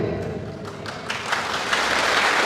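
A church congregation claps together during a Catholic homily, giving a steady rush of applause that swells slightly toward the end.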